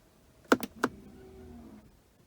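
The electronic parking brake of a Land Rover Discovery engages with a quick cluster of three close, sharp clicks followed by a brief soft motor whir, heard up close in a quiet cabin.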